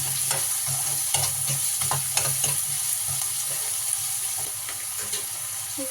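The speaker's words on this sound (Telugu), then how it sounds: "ఆనియన్స్ అయితే తొందరగా వేయడానికి ఇందులోనే కొంచెం సాల్ట్ వేసుకున్నాను" Onions with salt frying in a pan, a steady hiss of sizzling with repeated scraping stirs throughout, close and fairly loud, no talk.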